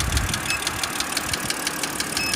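A car engine idles during a cylinder coil misfire test, a steady close rumble with uneven knocking pulses repeating through it.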